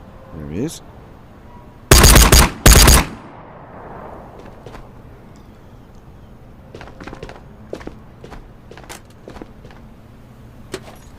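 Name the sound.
shotgun gunfire in Ghosts of Tabor VR video game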